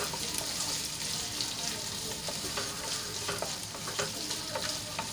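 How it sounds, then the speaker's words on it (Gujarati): Chopped boiled potatoes stirred and sautéed in hot oil for a sago khichdi, giving a steady close sizzle with scattered spoon scrapes and clicks throughout, no voices. "એકથી બે મિનિટ આપણે આ રીતે હલાવીને એને સાંતળી લઈશું"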